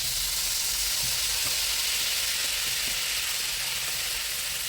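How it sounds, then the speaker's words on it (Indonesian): Spices sautéing in leftover oil from frying chicken, a dense, steady sizzle and hiss filling the whole stretch, loud and close with faint stirring underneath. "Kita akan tumis bumbu untuk ayamnya dengan minyak yang tadi, dengan minyak bekas menggoreng ayam."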